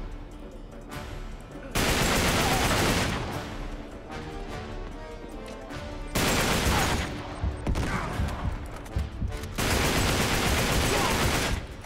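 Sniper and automatic gunfire in Uncharted 3: Drake's Deception comes in loud, sustained bursts separated by quieter stretches, with occasional sharp cracks and faint in-game voices.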